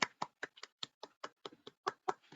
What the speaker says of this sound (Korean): 박수를 마지못해 치는 건 뭘까요?